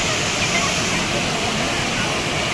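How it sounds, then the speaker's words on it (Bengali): Tugra Falls in Purulia: a steady, dense roar of falling water, loud and close, unchanging throughout. "তুগরা ফলসের ঝর্ণাটা খুব সুন্দর।"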